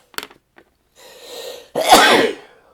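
A few small breaths and clicks, then a rising intake of air followed by a single loud, close sneeze that trails off.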